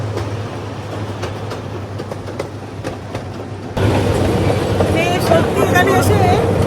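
A tourist train rolls through a tulip farm, its steady running rumble continuing throughout, quieter at first and then louder and closer, with people talking over it.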